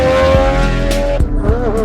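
The Ford Indigo, a V12 road car prototype, drives past with a strong engine note, rising and shifting pitch plus a brief sharp change near the end, loud and close.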